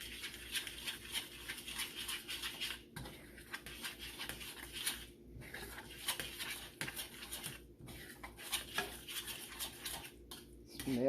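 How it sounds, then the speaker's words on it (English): A spoon stirring pumpkin and oats together in a bowl, with soft irregular scraping and clinking strokes that run continuously, quiet and close, with no talk. "And you just stir all this together."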